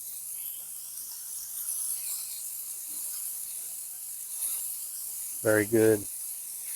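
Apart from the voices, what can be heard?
burgers sizzling on a hot Camplux grill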